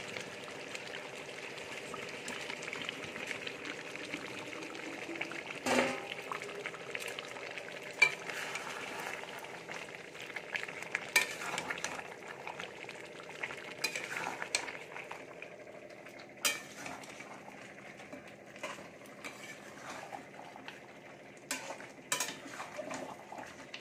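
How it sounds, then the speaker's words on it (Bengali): Fried potatoes added to simmering chicken curry with cashews in a pot, a low continuous sizzle broken by repeated clanks and scrapes of a spoon against the metal, close by with no voices. "এবারে ভেজে রাখা আলুগুলো দিয়ে দেব।"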